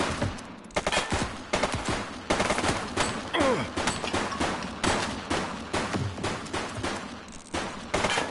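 Gunfire erupts in the police game The Precinct, with repeated loud bursts of shots and rapid volleys coming in clustered, uneven rhythms close by, with short gaps between flurries.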